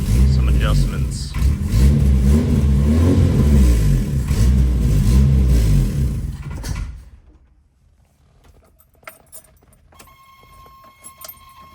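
A car engine with a carburetor in need of adjustment runs and revs loudly and up close for several seconds, then cuts out, leaving quiet with faint clicks and rustles.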